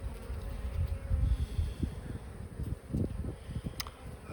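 Honey bees buzz steadily around an open hive frame during an inspection, a dense close hum with brief louder passes from individual bees.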